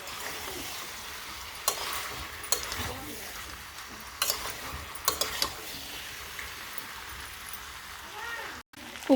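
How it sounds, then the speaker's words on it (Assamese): Duck meat fries in a pan with pumpkin and potato, giving a continuous sizzle broken by repeated scraping and clinking stirs, while a person talks over it. "আৰু এতিয়া মই মাংসখিনি কোমোৰা আৰু আলুৰ সৈতে আৰু 1 পৰা 2 মিনিট টাইম ফ্ৰাই কৰি ল'ম"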